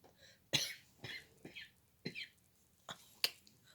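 Several short, sharp coughs or throat-clearing bursts come in an irregular series, fairly close and quiet, with no talking.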